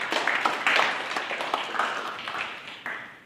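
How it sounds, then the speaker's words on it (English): Small audience giving a quick round of applause, a short burst of scattered hand claps, fairly close and uneven, lasting a few seconds. "Give me a quick round of applause and I'll make an appearance"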